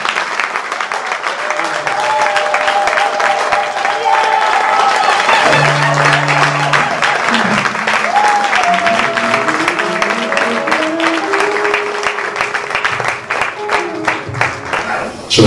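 A large crowd applauds loudly and steadily for about fifteen seconds at a church service, with sustained voices or music humming beneath the dense clapping.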